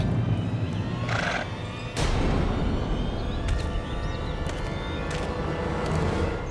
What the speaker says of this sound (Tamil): கொஞ்சம் கண்ணை திறந்து முன்னாடி பாருங்க குதிரை வந்துகிட்டு இருக்கு